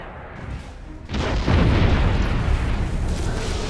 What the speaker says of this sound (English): Unfortunately, the warp cannon missed